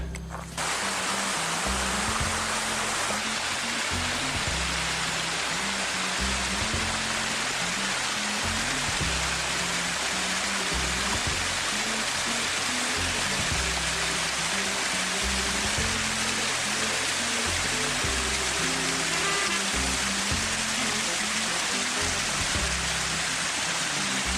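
Tufa waterfalls in the Vercors roar as a continuous broadband wash of falling water, steady and loud throughout with no voices, overlaid by a low repeating throbbing rumble.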